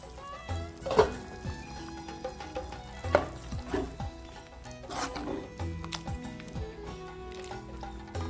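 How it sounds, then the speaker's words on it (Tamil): Water is poured into a pan of broad beans thokku with ground paste, splashing and stirring over a low bubbling simmer, with intermittent clinks and scrapes of a utensil. "தேவையான அளவு தண்ணி ஊற்றிக்கலாம்."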